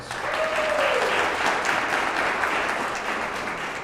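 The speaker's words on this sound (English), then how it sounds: "let's give all of our 10 finalists a big round of applause." A ceremony crowd gives steady, dense applause for ten Teacher of the Year finalists, swelling at the start and holding evenly with a brief tone early on.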